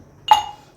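An ice cube drops into a glass of raw mango sarbat, giving a single bright clink that rings briefly and fades in a quiet room.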